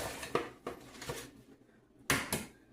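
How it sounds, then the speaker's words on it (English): Eggs are cracked into a dish one after another, giving a few soft, sharp taps and clicks spaced irregularly and heard fairly close and quiet. "So I'm going to crack 7 eggs."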